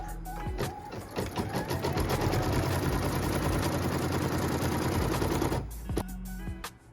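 Embroidery machine stitching a tack-down line on a quilt block, a rapid, even mechanical chatter that starts up, runs steadily for several seconds close and loud, then stops.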